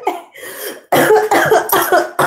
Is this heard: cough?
yes